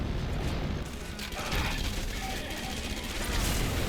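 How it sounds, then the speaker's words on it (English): An explosion in the video game Red Faction Guerrilla, set off when an explosive is shot next to the player. It comes as a dense, noisy crashing burst with debris-like clatter that stays loud for several seconds. "The explosion got me, just shot the explosive next to me."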